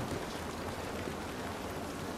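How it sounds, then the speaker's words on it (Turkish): Rain falling in The Last of Us Part 1 video game, a dense, even patter of drops on surfaces, steady and moderately loud throughout the brief stretch with no talking. "Şöyle yağmurlu havaların hayranıyım ya."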